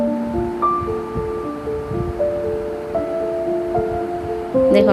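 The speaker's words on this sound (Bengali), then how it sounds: "সেজন্য আমি দুটো করে ভেজে নিচ্ছি" Pointed gourd slices, two at a time, fry in hot oil with a constant close bubbling hiss, while faint sustained tones sound in the background.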